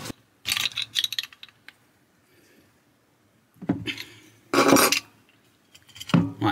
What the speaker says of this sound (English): And then I'll tighten this up using the spanner